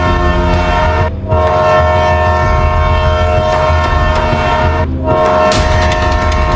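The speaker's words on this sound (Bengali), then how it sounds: "আপনি দেখছেন না ট্রেন আসতেছে?" A train roars past close by, its loud horn blaring in long sustained blasts over the rumble and clatter of the wheels on the rails, with a brief dip before another blast near the end.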